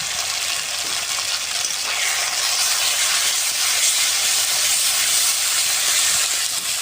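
A fish head fries in a paste of ground dried red chilli, cumin and turmeric, giving a loud, dense, unbroken hiss that stays steady throughout, with no voices.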